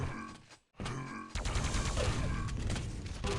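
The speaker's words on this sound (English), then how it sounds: "Shotgun. Bang!" Sharp shotgun blasts in the Quake CPM game, sudden loud bursts after a brief silent gap and then a dense run of gunfire and mechanical clatter, close and busy.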